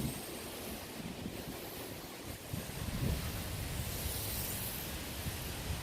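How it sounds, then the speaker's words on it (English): Strong outdoor wind roaring as a steady broadband rush with buffeting against the microphone, loud and continuous for the whole stretch, no voices. "Extremely windy out here."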